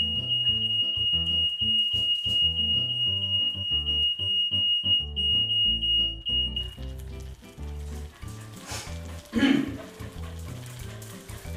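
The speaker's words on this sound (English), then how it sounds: "So excellent news, my smoke alarm works." A kitchen smoke alarm sounds a high, steady electronic tone continuously for several seconds over background music while cooking, then cuts off, followed by clattering and a brief sizzle.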